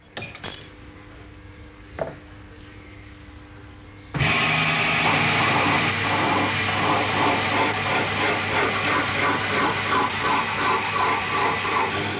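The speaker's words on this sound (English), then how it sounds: "The metal parts are filed down and sanded, so no rough particles remain that could snag the spinning wool." Metal flyer parts of an Irish spinning wheel being filed and sanded: after a few quiet knocks, a loud, close, rhythmic rasping of back-and-forth strokes starts and continues steadily to the end.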